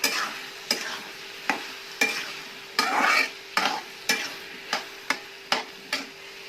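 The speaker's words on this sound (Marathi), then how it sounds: "व्यवस्थित हलवून घ्यायचे।" A spoon stirs masoor and moong dal with potato curry in a pan. Regular scraping strokes with sharp taps against the metal repeat about every half second over a soft, steady sizzle, with no talking.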